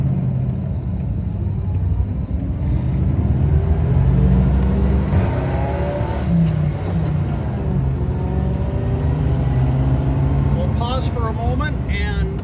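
A 1959 Chevy Bel Air with a 283 Power Pack V8, column-shift three-speed with overdrive and a limited-slip rear end, pulls away. Its deep engine rumble builds and climbs steadily in pitch, loud and close throughout.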